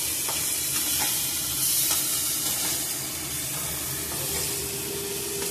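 Mixed vegetables and spices for Bengali dudh shukto are stir-fried in a pan, giving a dense continuous hiss and sizzle with scattered faint scraping taps from stirring, close and steady throughout.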